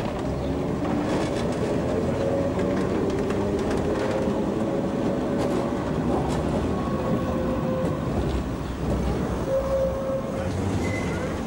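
A vintage Berlin T24 electric tram with trailer car rumbles along steadily, wheels clicking over rail joints with a few metallic squeals, heard up close without talk.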